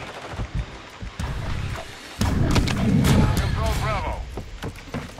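Gunfire and a heavy boom rumble through a Call of Duty: Modern Warfare 3 multiplayer match, with a rolling burst of noise rising midway under clipped voices talking.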